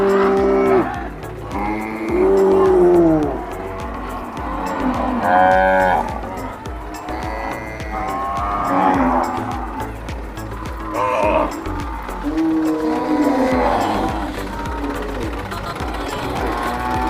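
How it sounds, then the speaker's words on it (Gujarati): Many cows moo all around at a large gaushala cow shelter in Mehsana, Gujarat, overlapping long calls near and far throughout with a steady mechanical hum underneath. "चारों तरफ गायों નો અવાજ"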